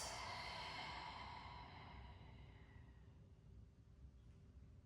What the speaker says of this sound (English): Open your mouth and let all the air out.